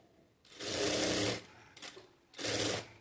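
Sewing machine stitching a blouse neck piece a quarter inch from the edge, running in two clear bursts of rapid, steady mechanical clatter with a short pause and a brief stutter between them, close and fairly loud.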